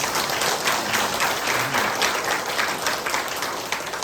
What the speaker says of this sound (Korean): 우리 박수 한번 쳐야 되겠어요?